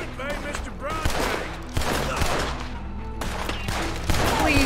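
A video game shootout with rapid bursts of gunfire, several sharp cracks scattered across the stretch and overlapping one another, loud and close, mixed with game voices.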